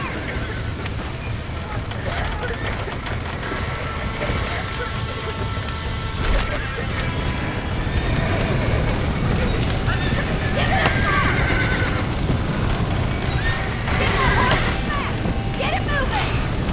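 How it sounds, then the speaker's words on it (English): Horses being freed from a burning barn in the Red Dead Redemption video game, with repeated whinnies and neighs plus clattering hooves and crashing amid busy game noise and someone talking over it. "Now get the horses out!"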